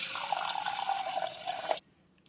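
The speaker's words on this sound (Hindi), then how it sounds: "अब हम दाल में पानी डाल देंगे।" Water pours steadily into a bowl of soaking urad dal for idli batter, a close, continuous splashing fill that stops abruptly near the end.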